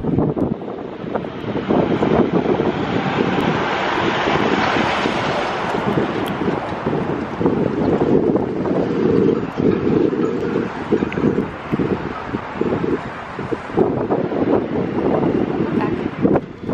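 Strong wind blows outdoors during a wine-tasting outing in Solvang, a continuous loud rumbling gust buffeting the microphone throughout, with faint voices beneath.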